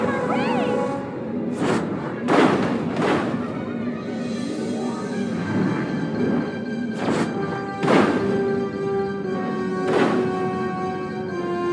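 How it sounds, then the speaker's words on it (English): In the video game Destroy All Humans, a thrown tank crashes with heavy thuds and metallic impacts among scattered explosions and battle noise, while a voice talks over the action. "I'll throw this tank."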